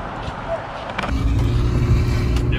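A car pulls away from downtown Los Angeles, its engine and road rumble rising and holding steady close by, with a brief voice near the start.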